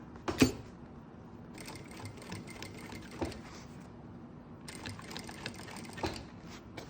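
Sewing machine stitching a reversible double-sided zip pouch, running in short close bursts with brief pauses between them, plus a sharp click near the start.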